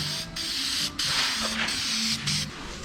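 Aerosol spray paint in a raw cast aluminum colour hisses out in long, steady, close bursts, broken by three short pauses as another coat goes on.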